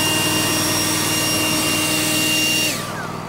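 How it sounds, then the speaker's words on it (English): A blower runs steadily and loudly beside a sawmill cutting large knotty logs, a continuous broadband roar with a sustained whine that cuts out near the end, leaving a lower residual hum. "Let me get my blower on there."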